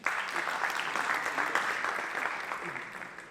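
Audience applause at a ghazal album launch, a dense sustained round of clapping from a crowd that holds steady for a few seconds.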